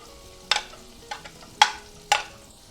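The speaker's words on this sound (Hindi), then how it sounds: "अब हम डालेंगे 1 टीस्पून ऑयल, साथ ही में ऐड करेंगे फ्लेवर्ड बटर, ऐड कर देंगे अनियंस" Onions dropped into a pan of hot oil and flavored butter, giving three or four sharp bursts of sizzling and stirring clatter separated by quiet gaps.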